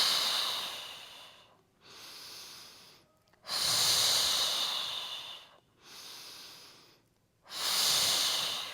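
Deep, slow breathing during a beginner Pilates mat exercise: loud close airy inhales and exhales alternating in long breaths with brief pauses between, no speech.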